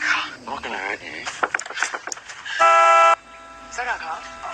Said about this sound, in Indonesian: dengan cepat menekan tombol klakson sehingga Scott dan kedua orang tuanya mendengar bunyi klakson tersebut